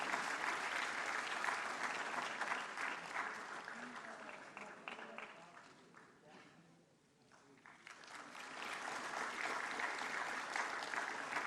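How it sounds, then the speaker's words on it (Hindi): Audience applause at a national awards ceremony presented by the President of India, a dense, steady clapping from a large crowd that fades briefly midway and then swells back to full strength. "जोरदार तालियों से इनकी हौसला अफजाई कीजिए।"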